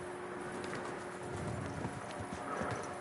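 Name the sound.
horse hooves clip-clopping in a video game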